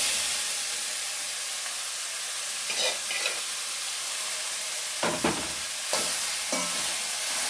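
Jackfruit thoran with mustard seeds and curry leaves being stirred in a pan, a steady hissing sizzle broken by a few clusters of scraping spoon strokes near the end.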